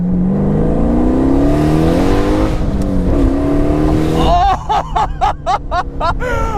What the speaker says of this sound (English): let's activate it once we get onto the straightaway and see what 700 horsepower in a fucking Pontiac Slowstice feels like